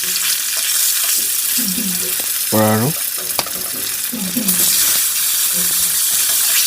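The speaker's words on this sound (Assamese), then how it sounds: "আৰু বাকীখিনিও ভাজি লৈছোঁ" Local fish fries in a pan for a home-cooked curry, giving a loud, steady sizzling hiss close by, with someone briefly talking over it.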